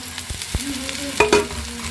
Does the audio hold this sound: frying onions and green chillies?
yes